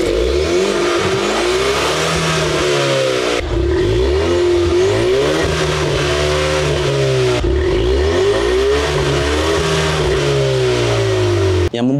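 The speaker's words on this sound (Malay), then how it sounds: "kalau korang tukar kepada racetrack, automatically valve dekat exhaust tu terbuka. So dia akan jadi bunyi dia lebih kuat." A Ford Mustang 2.3 High Performance in racetrack mode, with its exhaust valve open, revs hard in three repeated cycles. Each rev rises and then falls back, loud and close throughout.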